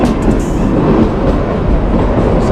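The Kalka to Shimla toy train rumbles along steadily, with a loud, continuous rolling roar of wheels and carriages heard up close and no voices.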